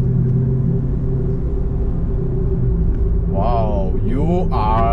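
Toyota Avanza 2019 driving along in traffic, a steady low engine and road rumble heard from inside the cabin, with people starting to talk over it near the end.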